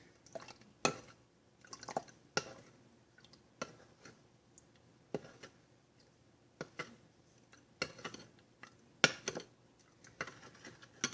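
A water mixture for a natural chemical peel stirred in a small container, heard as faint, irregular light clinks and taps of the utensil against the vessel, quiet and close with no speech.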